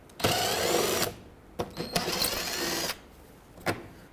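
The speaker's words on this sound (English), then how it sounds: "Remove them both with a 7mm socket." A power driver with a 7mm socket backs out the screws holding a 2010–2017 Chevrolet Equinox front fender liner to the bumper: two close, sustained whirring bursts, then a short final spin.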